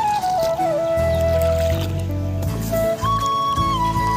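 Feet squelching and sinking into a waterlogged, muddy village field, with wet sucking and gurgling sounds close by, loud and continuous over several seconds.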